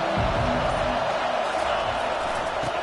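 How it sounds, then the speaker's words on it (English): A college football stadium crowd at a Tennessee versus Georgia game makes a broad, steady roar of noise, loud and constant for the whole stretch. "This crowd bringing the energy and noise early."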